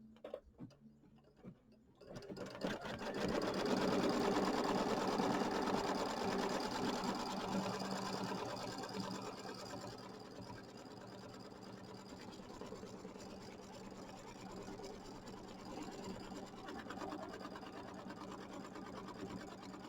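A sewing machine stitches a tack-down line on quilt fabric for a Kimberbell mini quilt, starting after a short quiet moment and then running in a fast, steady mechanical patter that eases slightly but keeps going throughout, with no voices.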